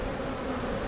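Honey bees at an open hive during a warm-weather inspection make a dense, continuous buzzing drone, close and steady without any break.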